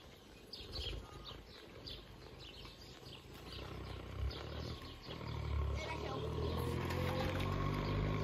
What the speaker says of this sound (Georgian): ტრაქტორი მოდის.